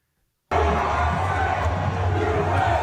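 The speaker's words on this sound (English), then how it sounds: "This is the reception that Trump got at a Steelers game in Pennsylvania." A stadium crowd at a Pittsburgh Steelers football game in Pennsylvania roars and cheers in a dense, continuous wall of noise that cuts in abruptly after a moment of silence.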